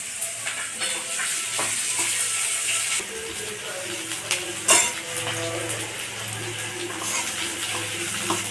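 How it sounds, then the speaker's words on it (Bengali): Chopped onions frying in oil with panch phoron and dried chilli, a close steady sizzle and crackle with occasional clinks and scrapes of a stirring spoon against the pan. "পেঁয়াজগুলোকে লাল করে ভেজে নেব।"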